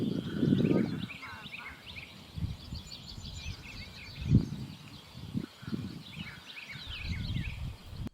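Canada geese at the Hagerman National Wildlife Refuge give a loud burst of honking at the start, then scattered, quieter honks and calls follow over a soft outdoor background.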